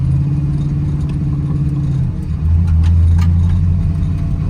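An LS V8 swapped into a Mazda FC RX-7 rumbles loudly and close while driving, with a steady low drone that drops to a deeper tone about halfway through as the car rolls off the pedal.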